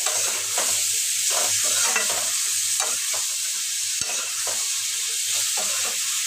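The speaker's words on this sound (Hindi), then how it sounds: "अब मैंने सब्जी को छौंक दिया, गैस को बहुत स्लो कर दिया है।" Spiced potato and chana dal curry is stirred while it sizzles in hot oil, a steady frying hiss with soft scraping strokes of the spoon and one sharp knock near the middle.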